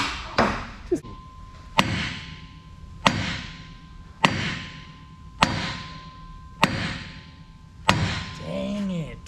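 A sledgehammer strikes the pins of a Caterpillar D9L bulldozer, ringing out as six or seven sharp metallic blows at a steady interval of about a second and a half, each followed by a short ringing decay, with a voice at the end.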